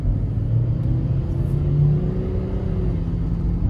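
A junkyard car with 195 on the odometer idles and runs during a test drive, a steady loud low engine rumble with a slight rise in revs partway through and no talking.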